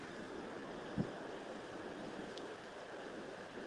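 Steady wind and water at Pipestone National Monument make a soft, even rushing wash, faint and continuous, with one brief low thump from the wind buffeting the microphone.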